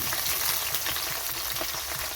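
Onion goes into a pan of hot oil with browned garlic and hisses in a dense, steady sizzle, fairly loud and close, with no talking.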